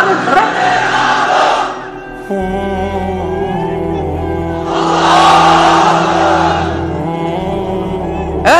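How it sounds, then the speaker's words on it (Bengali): A large gathering of unmarried men roaring the Lillahi Takbir chant in unison, two loud surging shouts with a pause between them, heard over an amplified hall drone. "এবার অবিবাহিতরা দাও লিল্লাহি তাকবীর।"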